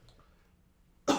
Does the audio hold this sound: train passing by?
no